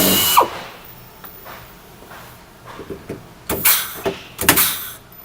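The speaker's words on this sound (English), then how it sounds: "Now the bottom hole will have to be drilled out." A power drill bores out the bottom rivet hole on a static fleet unit during assembly, in several short, loud whirring bursts separated by pauses, with the later bursts strongest.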